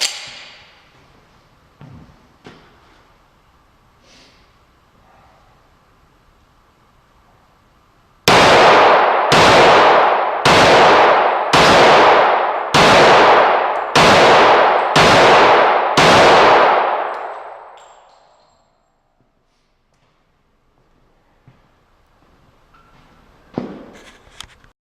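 Eight loud, sharp gunshots from 200-grain jacketed round-nose bullets, fired in a steady rhythm about one per second during a gunpowder smoke test, each with a short ringing tail.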